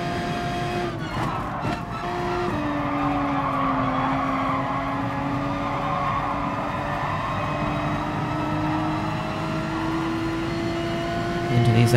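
Race cars roaring through S-bends in Gran Turismo Sport, a steady loud engine drone with shifting pitch over the full stretch, faint tire noise beneath and a voice talking over it.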